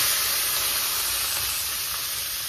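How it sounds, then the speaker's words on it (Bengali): Shrimp fried in a wok with turmeric and salt produce a continuous, bright hissing sizzle, steady and close, with no one talking. "এখন এই যে চিংড়ি মাছটা ভেজে নেব, আর হলুদ লবণ মাখাইনি, একবারে কড়াইতে দিয়ে ভেজে নেব হলুদ লবণ দিয়ে।"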